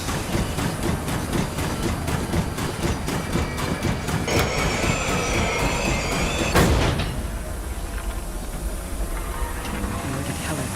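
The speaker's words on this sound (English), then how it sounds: "Train ride was unexpected." A train ride in the video game The Long Dark plays as continuous rattling rail noise with rhythmic clatter, a brief squeal and a sharp bang partway through, and steady rumbling to the end.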